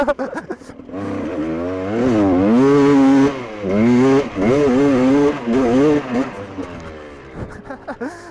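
A freshly repaired GasGas dirt bike revs hard up a climb, its engine note rising and falling in loud, close sweeps with brief drops between pulls.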